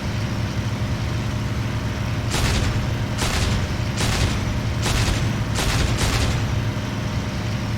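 Spitfire machine guns firing in IL-2 flight simulator, several short bursts of rapid gunfire spaced about a second apart over a steady droning aircraft engine, close and loud.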